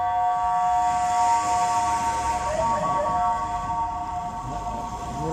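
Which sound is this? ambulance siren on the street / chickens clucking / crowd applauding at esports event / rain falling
ambulance siren on the street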